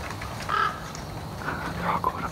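A crow caws a few times on a forest trail in Angeles National Forest, the calls fairly distant over steady outdoor background noise.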